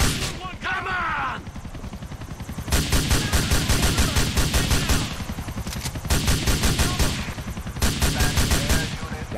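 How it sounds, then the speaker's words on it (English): M4 rifle fire in Grand Theft Auto IV, loud rapid automatic bursts with a dense rattling rhythm, repeated in long volleys separated by brief pauses amid game noise. "Can't go wrong with the M4."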